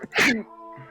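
A person sneezes once over an open microphone during an online tabletop role-playing session: an abrupt, loud, breathy burst that trails into a faint voiced murmur.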